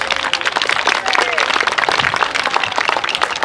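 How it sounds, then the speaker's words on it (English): An audience claps at a high school band parent night, with dense, sustained applause throughout. "would you give her a round of applause, please?"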